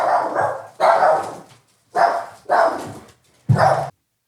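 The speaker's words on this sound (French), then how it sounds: "Les chiens ont aboyé." Dogs bark in five loud, close bursts with short silent gaps between them, and no voices are heard.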